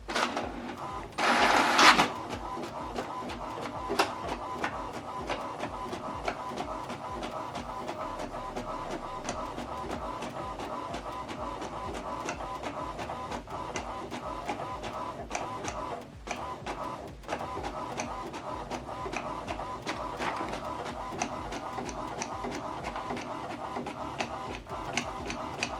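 An HP Deskjet 3700 series inkjet printer prints a page, giving a steady mechanical whir with rapid ticking of the print head. A brief louder burst of feeding near the start gives way to continuous close printing.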